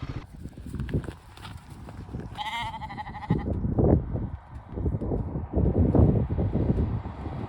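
Sheep roaming freely on the Isle of Skye bleat in short, wavering calls over a rumbling Royal Enfield Himalayan 450 motorcycle ride, with several cries rising briefly above the engine and road noise.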